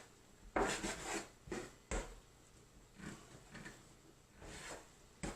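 Metal bench scraper chopping a rested, boiled seitan loaf into four pieces on a board: several distinct scraping, knocking cuts, fairly close and moderately quiet, with no talk.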